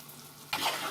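Hot chilli sauce cooking in a pan on medium heat breaks into a sudden hissing sizzle halfway through a short moment, close and bright after a quieter start.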